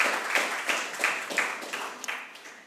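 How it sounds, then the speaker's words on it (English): A small audience at a short film festival awards ceremony claps for the jury panel with a modest, thinning patter of claps, fairly quiet and close, petering out within a few seconds. "I think they deserve a round of applause."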